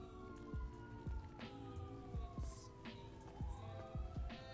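Police sirens in the GTA V NoPixel roleplay game, several overlapping wailing tones sweeping up and down, mixed with rhythmic low thumps, fairly faint and with no talk.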